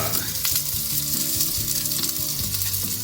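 Sausage sizzles and spits steadily in a hot pan while a pancake breakfast is cooked, a dense, close crackle of frying fat filling the whole stretch with no talking.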